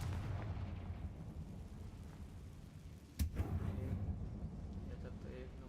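In the Hogwarts Legacy video game, a Confringo spell explodes inside a closed mine that resembles a tomb, giving one brief sharp burst midway over a constant low rumbling game background.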